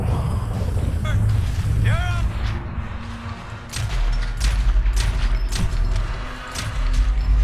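Rapid bursts of gunfire ring out in GTA V as shots rake a car, loud and dense with sharp repeated cracks in the second half, while someone talks excitedly over the opening shots and engine rumble.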